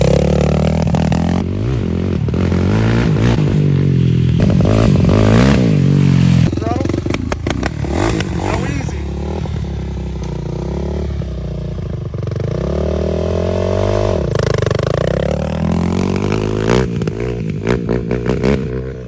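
A Yamaha YFZ450 ATV engine starts and runs with the choke on, revving up and down in rising and falling sweeps, loud and close, while people talk over it.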